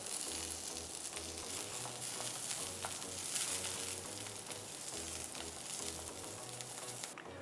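Around 25 to 30 halved garlic cloves fry in oil, giving a soft, continuous sizzle and faint crackle throughout.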